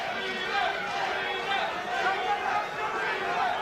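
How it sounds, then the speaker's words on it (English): A boxing crowd at the Marlon Starling vs Mark Breland rematch chants Starling's Hartford nickname, Moochie, in a steady, dense roar from a packed arena, with a commentator's voice riding over it. "Crowd beginning to chant, Moochie, Starling's North End of Hartford nickname."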